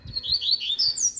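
A coleiro, or double-collared seedeater, sings outdoors in Recife, Brazil, a rapid run of bright, high, sliding whistled notes, close and clear over faint low background rumble.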